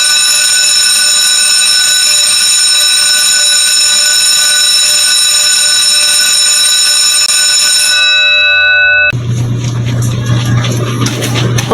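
A loud, steady electronic timer bell rings continuously for about eight seconds to mark the end of a ten-minute test, then gives way to a harsher buzzing alarm tone that runs to the end.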